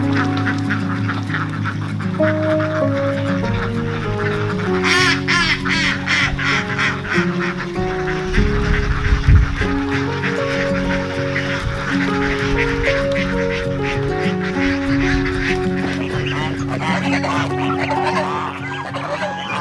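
Geese on a poultry farm honk and call loudly and continuously, crowding over one another with ducks and chickens clucking in the mix, as a dense flock noise close by.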